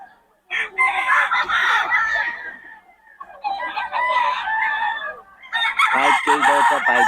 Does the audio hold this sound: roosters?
yes